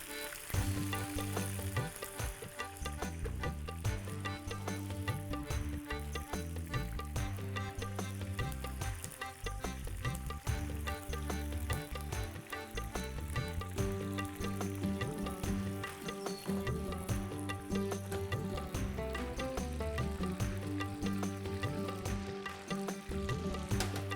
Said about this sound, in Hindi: पनीर तल रहा है धीरे धीरे, लेकिन मैंने ग्रेवी को टच नहीं किया, धीरे धीरे भुनने दिया